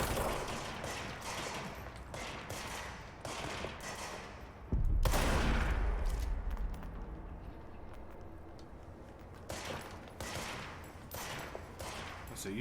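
Gunfire in the action video game Control, a dense run of rapid bursts and volleys through the whole stretch, with a heavier booming blast near the middle and a busy in-game soundscape underneath.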